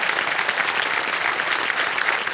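Studio audience on the quiz show Kaun Banega Crorepati season 16 breaks into steady, dense applause, a continuous close wash of many hands clapping with no pause for the whole stretch.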